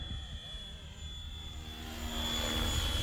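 A Flywing 450 radio-controlled model helicopter flies outdoors, its steady high-pitched rotor and motor whine holding constant over a low broadband rumble that swells slightly louder toward the end.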